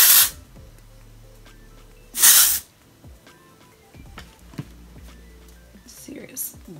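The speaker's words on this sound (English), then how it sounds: "Maybe I should put some more hairspray." Hairspray is sprayed onto curled hair in short, loud hissing bursts, one at the start and one around two seconds in, with a fainter pair near the end. Quiet talking runs between the sprays.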